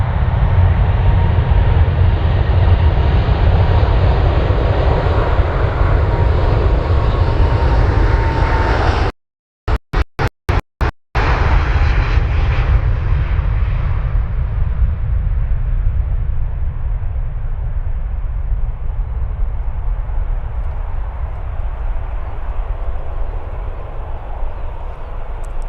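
A loud, steady jet engine roar from an aircraft taking off at Manchester Airport, heard at close range. The sound cuts out briefly partway through, returns, and then slowly fades as the plane climbs away.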